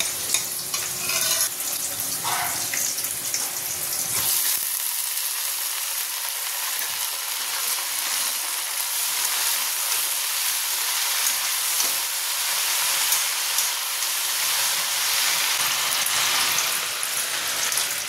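Loud, steady sizzling of water spinach greens frying with garlic in a hot pan, with an occasional stir or scrape near the start and no talking.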